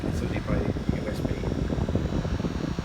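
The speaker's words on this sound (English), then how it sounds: "I guess it's an effective fan. And it's just way too loud." An Arctic Air portable USB-powered fan runs loudly, a steady whirring drone with fluttering mechanical noise throughout.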